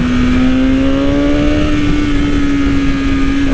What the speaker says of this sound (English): Auto blipping downshift.